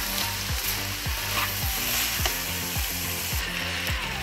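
Green beans and vegetables with sliced turkey are stirred in a hot pan: a constant frying sizzle with a regular scraping stroke roughly twice a second as the utensil moves through the food, no talking.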